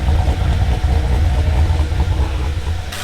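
An LS1 V8 with a big camshaft idles loud and lumpy nearby, its deep exhaust note loping unevenly throughout, with no voices.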